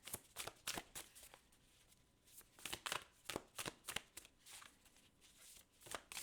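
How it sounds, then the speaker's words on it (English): Tarot cards being shuffled by hand, in quick bursts of crisp riffling and slapping that stop briefly and then start again, close and fairly quiet. "I'm gonna pull some more cards here for you"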